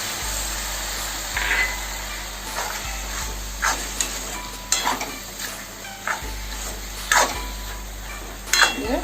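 Banana stem (posola) with khar frying in a pan, stirred with repeated scraping strokes over a continuous close sizzle, roughly a stroke every second, with no one speaking.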